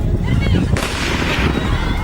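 Rapid gunfire crackles in a dense burst amid noisy, rumbling background, sharp reports blending together at close range.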